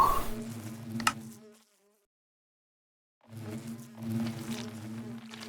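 Minecraft bees buzz close by in a thin, insect-like drone that stops for a second or two of silence, then resumes just as before.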